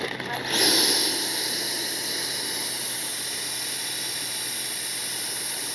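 An RC model L-39 jet in Baltic Bees livery spools up its turbine with a sudden surge, then holds a loud, steady, hissing roar close by.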